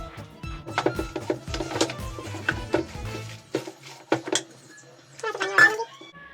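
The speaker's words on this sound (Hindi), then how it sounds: "ये अब अच्छे से मिक्स कर लेना चम्मच की मदद से" A metal spoon stirs potato, onion, chilli, salt, turmeric and dried coriander in a bowl, making quick clinking scrapes in irregular bursts, close and clear, with a softer rattling flurry near the end.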